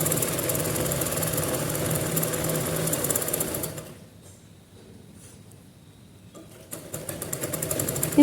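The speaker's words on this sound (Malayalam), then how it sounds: "ഒന്നുകൂടി സ്റ്റിച്ച് ചെയ്ത് കൊടുക്കാം" An electric sewing machine runs steadily while stitching the slit of a churidar, stops for a few seconds of quiet, then starts up again loudly and close.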